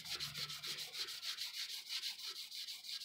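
Rhythmic back-and-forth sanding strokes rasp steadily against automotive clear coat, about five strokes per second, close up and quiet.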